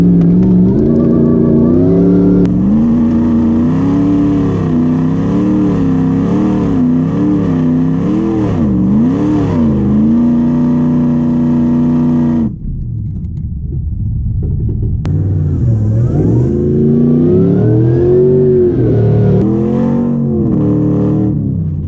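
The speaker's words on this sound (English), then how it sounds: "If a supercharged 6-litre V8 Patrol can't get up, we're in trouble." A supercharged 6-litre V8 Nissan Patrol revs hard on a coastal sand dune, its loud engine note rising and falling in sustained bursts, cutting briefly before roaring back up again.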